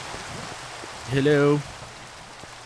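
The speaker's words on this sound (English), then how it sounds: "It's raining down here?" Rain in the video game Minecraft hisses as a soft, steady wash throughout, while a voice briefly speaks over it.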